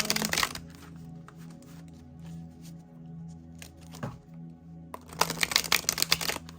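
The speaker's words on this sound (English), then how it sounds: "But I'm going to keep shuffling as well." Quick riffling of tarot cards being shuffled, several short bursts at the start and end with softer shuffling between, close by and fairly loud.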